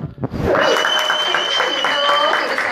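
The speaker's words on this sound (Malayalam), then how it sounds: "അവർക്കും ഒരു നല്ല കയ്യടി വേണം" Audience applause at a stage music competition final, a sustained dense wash of clapping that swells in after a brief lead-in and holds steady and loud, with a voice or musical tone running faintly beneath it.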